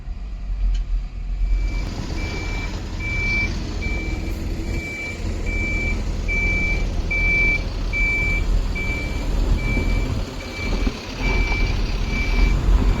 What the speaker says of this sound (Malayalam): നമ്മുടെ ഷിബിയാട്ടൻ്റെ വണ്ടിയിലോട്ട് ഇപ്പോൾ സാധനം ലോഡ് ചെയ്ത് തൊട്ടപ്പുറത്തായിട്ട് കൊണ്ടുപോയി തട്ടുകയാണ്.